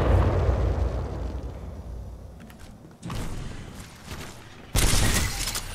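Frag grenade blast in the Titanfall 2 campaign, a heavy explosion boom followed by a rumbling tail, then another sharp burst near the end amid ongoing combat noise.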